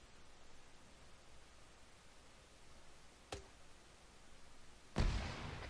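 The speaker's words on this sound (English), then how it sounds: "you can see where your fucking grenade splashed pretty easily, because, well, it's a giant ass explosion" A grenade launcher round exploding in a grenadier training session of a video game, a single loud broadband burst with a tail, preceded by a fainter sharp crack, over steady background noise.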